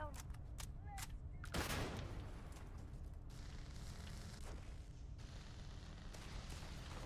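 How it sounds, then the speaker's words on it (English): Gunfire from a character shooting in the sci-fi video game Starfield, several sharp cracks early on followed by a dense, noisy combat din that continues steadily throughout. "What in the world is she shooting?"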